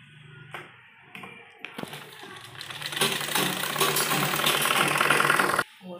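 A domestic sewing machine stitches a baby frock: a few light clicks first, then a steady, loud mechanical whirr with a rattling motor that runs continuously for several seconds before stopping abruptly.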